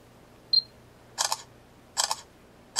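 Three short bursts of rapid mechanical clicking from a nearby Samsung Galaxy S4 camera shutter firing in quick bursts, after a brief high beep, in an otherwise quiet room.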